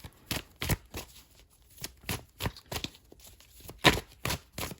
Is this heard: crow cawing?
no